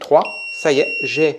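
A Soojook SJ-935 electric pruner gives a steady high-pitched beep as it switches into anti-cut mode, sounding under a man's French speech through most of the short moment.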